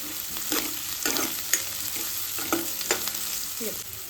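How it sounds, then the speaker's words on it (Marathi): Grated ginger and garlic fry with lightly browned onions in a pan for dal masala khichadi, giving a steady close sizzle broken by several sharp stirring scrapes and clinks. "आलं लसूण पण छान भाजलं"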